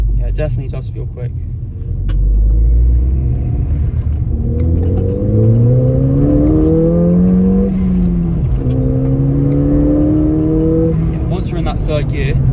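A Ford Fiesta ST pulls hard in third gear, its engine note climbing steadily in pitch as revs rise, dipping briefly at a shift and climbing again, heard from inside the car while someone talks over it.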